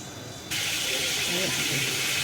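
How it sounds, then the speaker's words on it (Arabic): Water brought to a boil and poured over rabbit pieces sautéed in local ghee with mastic and cardamom, sending up a sudden loud, steady hiss of steam that starts abruptly and holds strong to the end. "لازم اشوح الارنب كده بحته سمنه بلدي حلوه، فصين مستكه وفصين حبهان، اغلي الميه واروح سقطها عليه"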